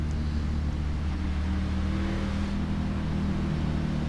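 A B-Class race car in iRacing lapping at Iowa, its engine a steady, close droning hum with a low rumbling transmission underneath, continuous and unbroken, with no one talking.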